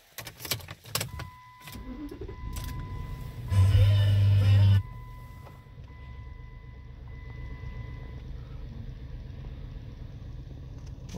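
Jeep Commander engine cranking and starting up, a brief loud roar that settles into a steady idle with a faint whine above it, close by and alone with no talk.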